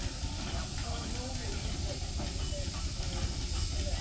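Steady broadband hiss of steam from a working Burrell steam roller, continuous and fairly loud, with a low mechanical rumble beneath.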